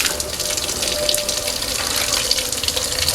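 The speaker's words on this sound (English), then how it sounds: "Oh, I'm about to get wet. Oh, there it is." Coolant gushes steadily out of a Lotus Esprit engine during disassembly, a continuous close splashing pour of liquid with no pauses.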